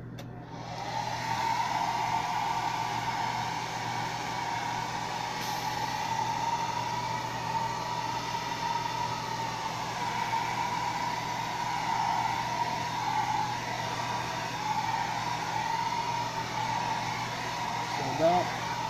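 Hair dryer blowing on freshly airbrushed iris paint, a loud, constant whirring hum with a steady tone that holds for the whole stretch after switching on, with no talking.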